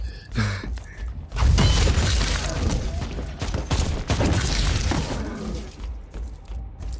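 Grenade explosions in the video game Warhammer 40K: Inquisitor - Martyr, with a dense burst of booming blasts, rumbling thuds and debris crashes following one another for several seconds before easing off.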